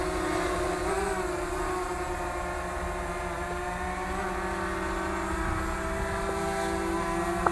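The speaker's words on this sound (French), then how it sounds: "Il bouge pas notre drone." A DJI Mavic Mini drone hovering about 30 cm above its takeoff point, giving a steady, close propeller whine with stable tonal harmonics that holds evenly throughout, with a faint click near the end.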